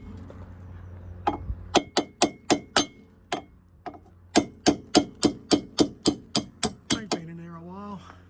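Hammer blows on stuck wheel nuts of a Volvo V70 in a garage: two sharp metallic strikes, then a quick burst of about a dozen rhythmic ringing hits, close and loud, ending with a brief hum.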